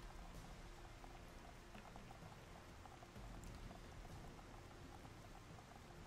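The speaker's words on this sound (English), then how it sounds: "It's really rainy here." Heavy rain falls in the Xenoblade Chronicles: Definitive Edition game world, a steady, dense hiss and patter of drops that is faint and continuous, with no voices over it.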